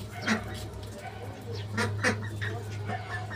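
Old farm ducks quack in a few scattered bursts near a loft where they are kept alongside chickens, over a steady low hum and some faint background voices.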